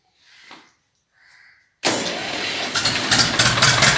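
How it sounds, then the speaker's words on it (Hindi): A 1970 Escort 27 hp tractor engine is cranked with its self-starter after a couple of faint sounds, then catches and runs loud and close, settling into a steady, slightly uneven diesel chug. "एक बार सेल्फ मार दियो, हो जाएगा स्टार्ट।"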